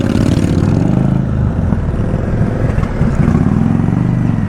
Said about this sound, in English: I can't really hear anything over old mate's bike